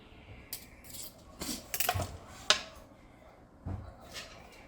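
Knife cutting steak on a plate, with several scattered clinks and scrapes of metal cutlery against the dish, sparse and close in a quiet home kitchen.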